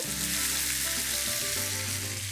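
Sliced fennel fries in hot oil in a pot, giving a steady, dense sizzle that runs unbroken and fairly loud throughout, with a low tonal hum underneath.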